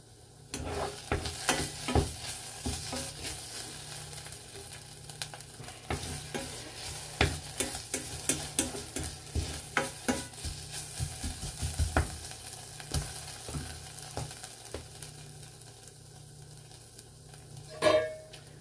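Tomato-onion sauce roasts in a pan while being stirred, giving a steady sizzle broken by frequent scraping and clinking strokes of the utensil, close and fairly loud throughout, with no talking.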